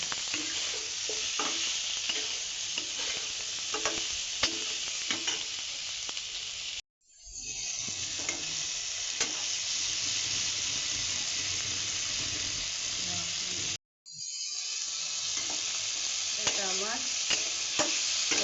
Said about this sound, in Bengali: এবার আমি ভালোভাবে কষে নেব।